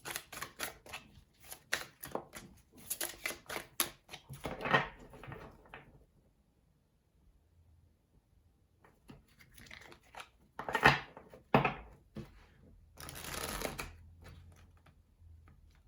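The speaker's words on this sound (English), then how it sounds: "A little shuffling ASMR." Tarot cards are shuffled in a quiet indoor setting, with crisp close-up riffles and flicks in clustered bursts, a long near-silent gap, then a few sharper shuffles.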